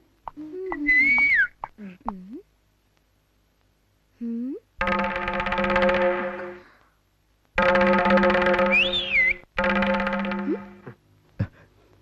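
An old man whistles in short melodic phrases with sliding pitches, broken by pauses, while someone talks over and between the phrases with strong harmonic voicing.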